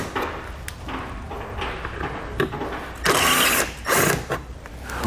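A ratchet with a T20 Torx bit backs out fasteners on a 2019 Lincoln Nautilus, giving quick, close mechanical clicking in short bursts, with a couple of louder spells near the end.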